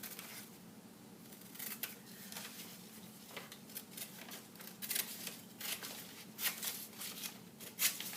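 Scissors snipping through paper for a craft project, giving a run of soft, irregular crisp cuts close by, rising in spurts toward the end with no talking.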